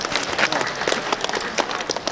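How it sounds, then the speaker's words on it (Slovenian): Crowd at a riverside Sava cycling event in Sevnica claps in an irregular, lively patter of many hands, moderately loud and close throughout. "zato še enkrat tudi za njih en velik in bučen aplavz in za vse vas"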